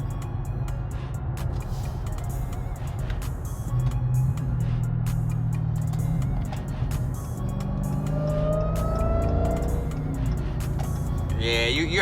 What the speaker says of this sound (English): Yeah, you heard that supercharger.